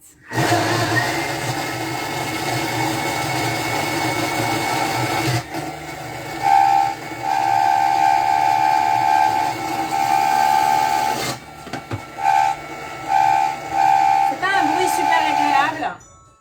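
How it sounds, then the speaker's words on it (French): A food processor runs at speed 7 mixing an energy-ball mixture with coconut, a loud steady whirring drone with a high whine that shifts pitch partway through, then cuts in and out in bursts near the end. "C'est pas un bruit super agréable ce mixage, mais c'est pas que ça ne fait rien"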